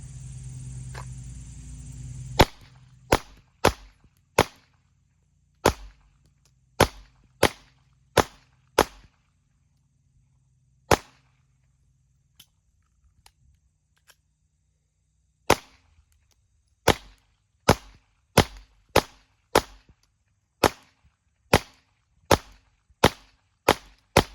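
CZ P-09C Nocturne pistol firing about two dozen sharp shots, mostly in quick strings with short pauses between, loud and close at an outdoor range after a brief stretch of background noise.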